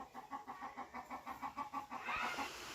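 Chickens cluck in a quick, regular series of calls, faint and close together, followed by a brief rustle.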